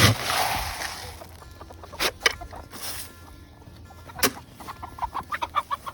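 Chickens cluck at feeding time, a few short close calls rising toward the end, mixed with scattered rustling and bumps around the coop.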